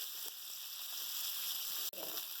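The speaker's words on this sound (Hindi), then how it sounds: "दोनों तरफ से हमारी चिकन बहुत अच्छे से फ्राई हो चुकी है।" Chicken pieces fry in a pan of hot oil, a steady close crackling sizzle with a couple of brief shifts as they are moved, and no one talking.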